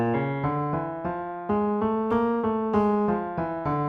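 A Middle Eastern makam melody from a Genshin Impact Sumeru song, played as a solo line of sustained, bright reedy notes moving stepwise through microtonal intervals, loud and close, with no voices.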